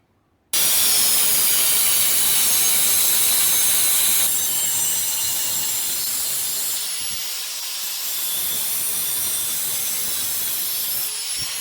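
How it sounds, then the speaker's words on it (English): A powered cutting tool slices slots into a steel exhaust pipe on a loud Suburban, with a steady, harsh, high-pitched whine and hiss that runs continuously for about eleven seconds, with a slight change in tone partway through. "Let me get my cutting tool and we'll cut slots in that one"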